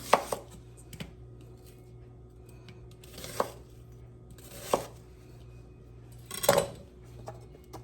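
A medium onion being chopped with a knife on a cutting board for a hearty cowboy soup, giving several crisp, separate knife strikes at uneven intervals, close and clear over a steady low background hum.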